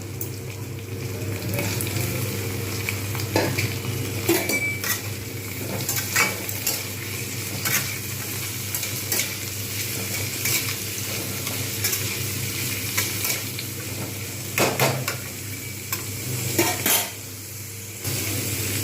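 Bitter gourd and pumpkin stir-fry in a pan, seasoned with turmeric and salt, giving a steady low sizzle broken by repeated scrapes and clinks of a spatula against the metal pan, with no talking.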